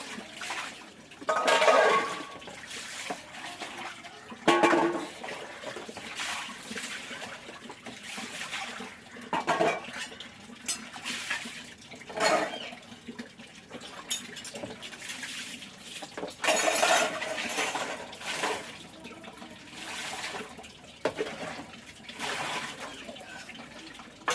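Dishes, pots and pans are washed by hand at a home sink, with intermittent gushes of tap water splashing and running in bursts over about twenty seconds, plus light clatter between them.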